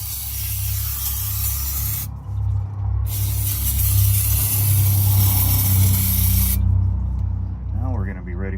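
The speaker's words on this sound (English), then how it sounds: "Get some brake clean, let's clean this off." Brake cleaner sprays hard onto the rear differential housing of an 85 Ford Bronco II or Ranger in two long, loud hissing bursts, separated by a brief pause, over a steady low hum.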